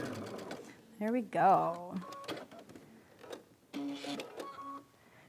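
A sewing machine with a quarter-inch piecing foot stitches quilt pieces for an easy baby quilt in short whirring bursts between pauses, with a voice speaking briefly over it.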